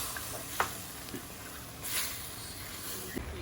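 Seasoned vegetables with oregano, cumin and salt stir-frying in a pan: a soft, steady sizzle with a few faint scrapes and clicks from stirring, heard close but quiet.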